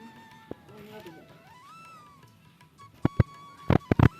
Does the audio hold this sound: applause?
no